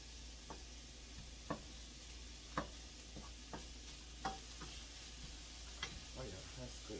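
Ground turkey cooking in a pan with seasonings makes a faint, steady sizzle, with soft scattered clicks and taps on top of it.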